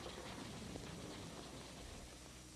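Thunder in a storm: a steady, dense rumbling roar with rain-like hiss throughout, fairly quiet and even, with no distinct crack or voices.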